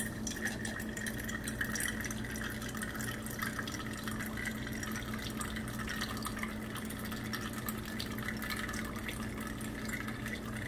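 Bottled water is poured steadily into a cup, a continuous close trickle and splash of liquid lasting throughout, with no talking over it.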